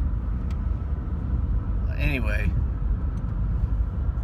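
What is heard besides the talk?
car driving, heard from the passenger seat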